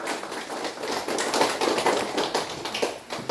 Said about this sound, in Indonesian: Aplaus untuk Ibu.